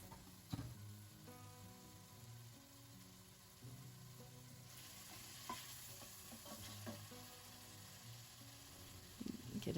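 Chopped carrot and onion hit hot oil in a pot and sizzle steadily, with a few sharp stirring scrapes and clinks over a low continuous fry, close and fairly quiet.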